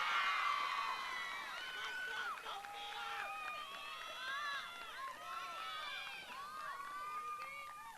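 A high school graduation crowd cheers and whoops loudly for speech award winners, with shrill overlapping shouts and whistles filling the hall without pause.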